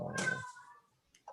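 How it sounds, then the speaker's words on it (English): Kitten meowing in a room, one drawn-out meow up close with harmonics, followed by a short fainter chirp after a pause. "wild kittens tearing up their room"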